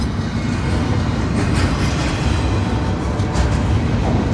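Freight train pulled by three locomotives rolling past at close range, a steady loud rumble of wheels and cars with faint clicking and no break in the noise.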